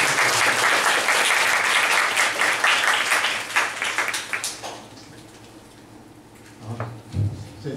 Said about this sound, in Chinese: 所以我们现在一起掌声欢迎洪老师来替我们讲